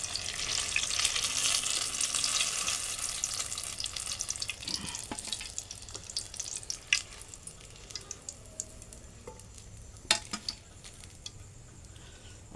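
Tomato vadas fry in hot oil, giving a loud, dense sizzle that gradually calms, with a few sharp utensil clinks near the end and no talking.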